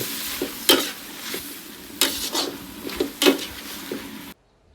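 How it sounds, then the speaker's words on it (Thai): Squid and holy basil leaves are stir-fried in a pan: a continuous sizzle is broken by several sharp scraping strokes of the spatula, close and loud, before the sound cuts off abruptly near the end. "เสร็จแล้วก็ใส่ใบกะเพราลงไป ผัดคลุกเคล้าให้เข้ากัน"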